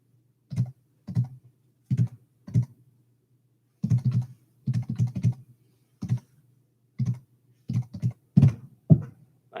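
Keys on a computer keyboard are typed in short bursts and single taps, with brief pauses between clusters, close and clear against a quiet background.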